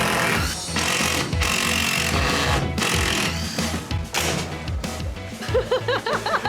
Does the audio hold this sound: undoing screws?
yes